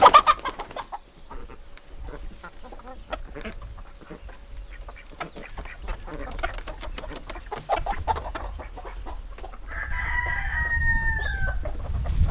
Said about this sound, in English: Nice looking rooster.